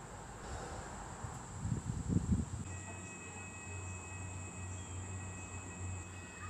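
An MBTA commuter train rumbles into Southborough, Massachusetts with a low steady drone and a faint high whine, after a brief burst of louder rustling near the start.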